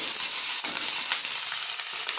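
Ash gourd and coconut bhaji frying in oil in a wok, a steady close bright sizzle running without a break, with faint stirring scrapes and no voices.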